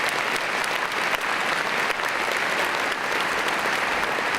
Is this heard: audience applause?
yes